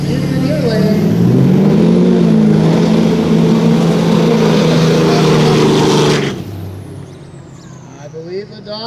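Production-class drag race cars launch and roar loudly down the track side by side, engines climbing in pitch for about six seconds before cutting off abruptly, leaving quieter distant noise.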